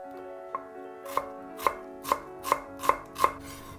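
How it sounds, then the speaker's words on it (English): A knife chopping an onion on a board for Vietnamese pickled vegetables, about seven crisp, evenly spaced chops that grow slightly louder, with no talking. "mince an onion"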